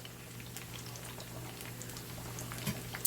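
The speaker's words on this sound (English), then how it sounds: "I want you to see how the rice is cooking" Rice in a pot of chicken soup boiling on the stove, a faint steady bubbling and simmering hiss with soft pops and a low background hum.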